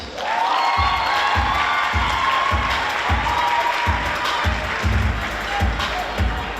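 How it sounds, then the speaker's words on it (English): A crowd at a high school JROTC military ball applauds and cheers for graduating seniors, with sustained clapping, voices and regular low thumps under the noise. "Please join me in a round of applause for all of our graduating seniors"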